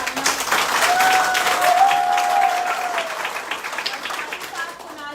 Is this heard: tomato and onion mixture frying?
no